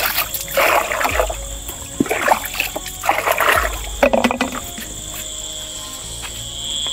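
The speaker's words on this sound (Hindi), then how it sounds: "ये वाला कीड़ा आवाज करते ही रहता है एकदम" Steady high insect chirping runs continuously through the night air, with scattered rustling and splashing noises nearby and faint voices in the background.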